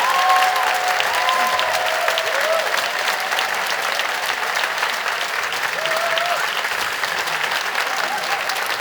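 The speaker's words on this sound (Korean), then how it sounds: "아이들 들어갈 때까지 좀 박수를 계속 부탁드립니다" A church congregation at a Sunday evening service claps steadily and loudly for several seconds as children leave after a summer Bible school song, a dense wash of applause with faint voices underneath.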